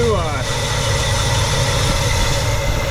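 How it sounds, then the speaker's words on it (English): A 1967 Pontiac Grand Prix convertible engine runs close and loud with a steady, rough idle, and the throttle is blipped near the start. "blipping the throttle"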